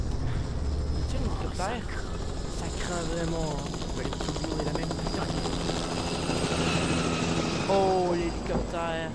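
A helicopter in The Last of Us Remastered video game thrums steadily with a rotor chop throughout, while players talk over it.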